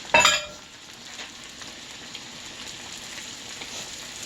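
Turkey Salisbury steak fries in a pan with melting butter. A brief louder burst of sizzle settles into a steady, soft crackle that continues on its own.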